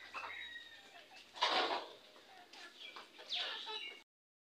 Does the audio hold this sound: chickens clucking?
yes